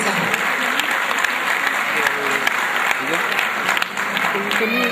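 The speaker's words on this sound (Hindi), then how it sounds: "आपकी भरपूर तालियों में मैं बुलाता हूँ" Continuous, dense applause from an audience welcoming a guest onstage in a hall in Lahore, loud and close throughout, with a few sharper individual claps standing out and faint voices mixed in.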